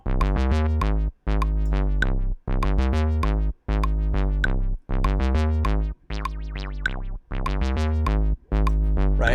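A synthesizer bass line programmed in the Massive soft synth plays alone, a loud, harmonically rich pattern of sustained notes broken by short regular gaps.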